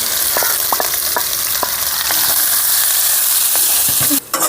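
Curry leaves and crushed onion frying in hot oil in a pan make a loud, continuous sizzle, dotted with sharp pops and crackles throughout.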